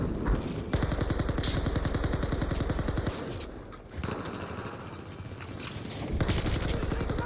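Rapid pistol gunfire in Battlefield 4: long, steady strings of fast shots at close range, with a short lull in the middle before the firing resumes, and no one talking.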